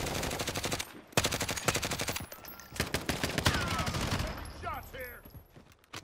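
Rapid bursts of automatic gunfire in a Call of Duty: Modern Warfare match, loud and close, dense volleys with brief gaps, some talk mixed in.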